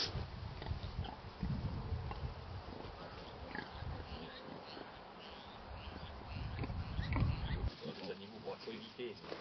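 Farm pigs, a sow with her piglets on a forest walk, grunt and snuffle in irregular bursts close by, blended with other rustling and a voice speaking over them.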